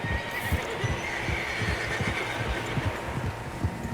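Horses in the video game Red Dead Redemption 2, a steady rhythmic clip-clop of hooves plodding along at a moderate pace under a low ambient hum, with no voices.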